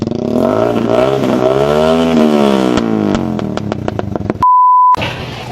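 A motorcycle with a loud modified exhaust muffler revs at a roadside checkpoint, a rising and falling engine drone followed by sharp popping bursts, then a steady electronic beep tone near the end.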